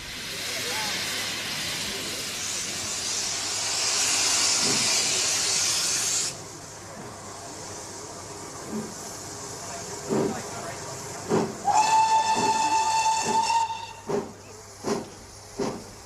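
Steam hisses loudly, then the steam locomotive Clun Castle chuffs in rhythmic bursts, and a shrill steam whistle sounds for about two seconds as it pulls out of Truro.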